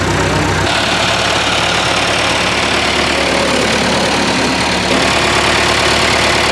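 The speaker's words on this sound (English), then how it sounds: "It's a bit more of like a clumsier, heavier tractor with I guess a slightly clumsier engine." A heavy, older farm tractor's diesel engine idles close by with a loud, rough, knocking chug that holds steady throughout, and no one speaks.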